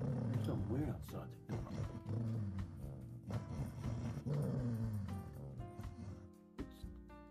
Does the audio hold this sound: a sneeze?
no